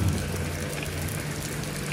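Heavy rain falling in a steady dense hiss on a surface, constant and fairly loud throughout with no voices.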